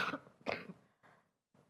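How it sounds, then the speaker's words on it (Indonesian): A woman coughs a few times during a church sermon: two strong, close coughs followed by two fainter ones, with short pauses between them. "Maaf, batuk ya."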